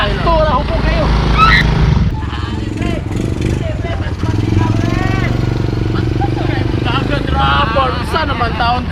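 A motorcycle being ridden, its engine giving a steady low drone throughout, while people talk over it.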